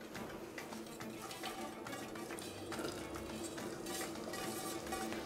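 Onions frying in a few spoonfuls of oil, a soft continuous sizzle with light stirring and utensil clinks, fairly quiet and steady with no talk.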